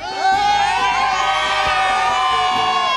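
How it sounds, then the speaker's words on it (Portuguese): A crowd of fans cheers and shouts at a beach event, a dense, steady roar of many voices with high whoops and children's cries sustained throughout. "a torcida é grande"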